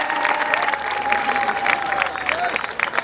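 Applause and cheering from an audience at an Urdu poetry recital, dense clapping over crowd noise with a sustained whistle running through, fairly loud and continuous.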